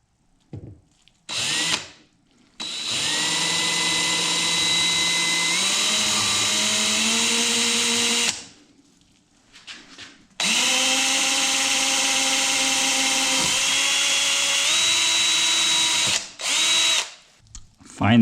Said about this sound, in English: You want to drill a hole right in the middle.